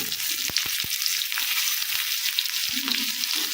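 Cumin, cinnamon, bay leaf and chopped onion frying in oil for brinjal curry, a steady bright sizzle broken by a few sharp utensil knocks.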